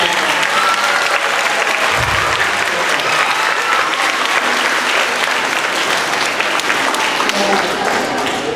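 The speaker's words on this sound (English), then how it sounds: "get one more round of applause for our 4th and 5th grade band" Loud, sustained applause from a school concert audience for a 4th and 5th grade band, dense clapping and crowd noise filling the whole stretch evenly at close range.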